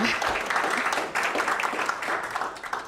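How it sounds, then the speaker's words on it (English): An audience at a live awards announcement for community impact finalists gives a round of applause, a lively, dense patter of many hands with slight swells that stays strong from start to finish. "oh yes, round of applause"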